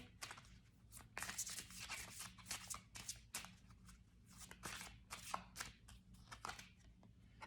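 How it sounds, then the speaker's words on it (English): Romance angel cards shuffled by hand up close, a quiet run of rapid riffling bursts and soft slaps in an irregular rhythm, heard alone without talking. "Let's draw a couple of romance angel cards for our Virgos here."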